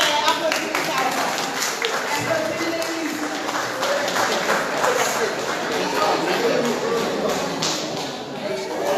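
A church congregation breaks into applause during a Sunday service, a sustained wash of mixed clapping that runs under a voice speaking throughout.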